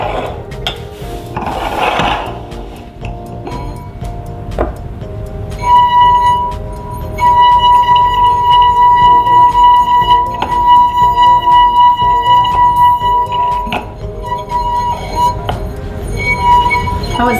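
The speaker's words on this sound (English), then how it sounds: "So there you have it, humming glass." A drinking glass rubbed with light touches rings with a sustained, clear hum that swells and fades over several long stretches, loud and close, mixed with faint clinks and handling noise.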